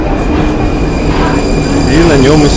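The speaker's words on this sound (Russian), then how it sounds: "Вот уже подъезжает нужное мне" A Prague metro train pulls into the station, a loud steady rumble with rising wheel squeal and tonal whine toward the end, heard up close on the platform.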